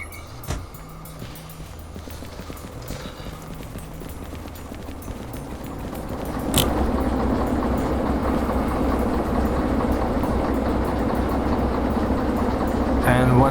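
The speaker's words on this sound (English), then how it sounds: "currently the brake pipes here are being filled with pressure" Locomotive brake pipes filling with air pressure in the train game Derail Valley: a steady broadband hiss that swells sharply partway through and holds loud, over a low engine rumble.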